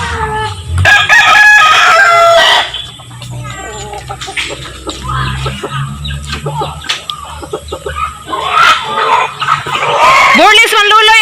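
A backyard rooster crows loudly nearby several times among clucking chickens, with people talking in between the calls.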